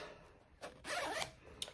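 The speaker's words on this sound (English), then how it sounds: "you zip it up" A zipper is pulled up on Shapellx plus size shapewear, a close, quick rasping zip lasting under a second followed by a tiny click, with no talking.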